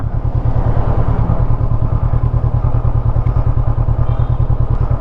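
A Honda CB500X motorcycle engine runs steadily in low gear while descending a steep slope, a loud, close, continuous throbbing rumble with rhythmic low pulses and no talking.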